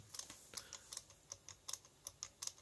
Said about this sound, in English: the chuck is loose so it actually makes clicking noises